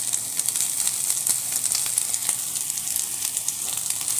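Martabak egg filling with spring onions stir-fries in a hot pan, a loud, dense sizzle with rapid crackling pops that runs continuously, close up.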